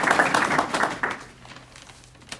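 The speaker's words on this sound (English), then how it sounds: "I would ask you to join me in a round of applause in welcoming the CEO and founder of Saxbys" Audience applause welcoming the founder and CEO of Saxbys at a bank meet-and-greet, a dense wash of clapping for about a second that quickly thins and fades to near quiet.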